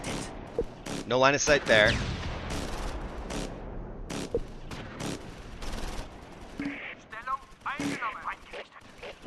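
Gunfire in a Close Combat IV battle, with bursts of shots rattling out at uneven intervals while someone talks over them.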